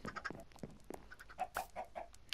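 Minecraft video game chickens cluck and squawk in short, quiet bursts, several soft calls overlapping, with no talking.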